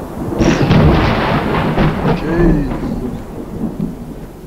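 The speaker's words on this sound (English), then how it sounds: "Considering all the thunder and lightning around." Thunder rumbling through a stormy survival session in the video game Unturned, a loud sustained roll with rain-like hiss throughout, while a voice briefly exclaims partway through.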